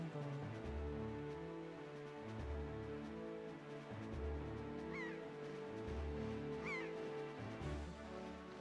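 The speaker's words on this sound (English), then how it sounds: "Hi, seagull friends." Seagulls calling in Wind Waker HD, a few faint squawks drifting over a steady, droning background of game music.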